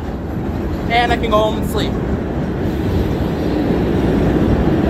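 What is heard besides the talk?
LF train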